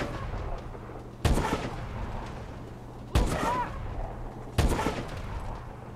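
Three heavy gunshots from Call of Duty: Advanced Warfare fire at roughly two-second intervals, each a loud sharp crack with a booming tail, over a steady low rumble of game ambience.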